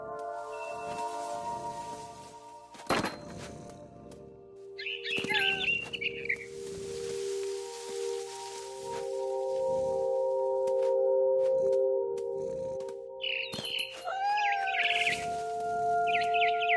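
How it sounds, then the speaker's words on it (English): Barn swallow chirping in What Remains of Edith Finch, a few bright twittering bursts over a steady game ambience and tonal drone, with brief clusters near the middle and end. "It was a barn swallow going back to her nest."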